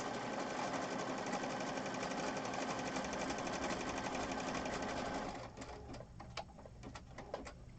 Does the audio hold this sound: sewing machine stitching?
yes